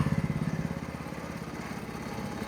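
A 7 hp gasoline outboard motor with a horizontal drive shaft runs out of the water with its propeller spinning, a steady near chugging of rapid regular engine pulses that are slightly stronger at first.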